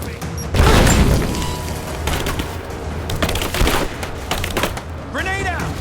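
Grenade blast and gunfire in the video game Rise of the Tomb Raider, a loud broadband boom near the start followed by scattered shots and bursts, with voices shouting in the mix and a brief bird-like chirp near the end.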